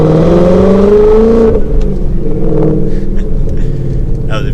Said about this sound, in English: We're in second gear, we'll do a little bit of a pull.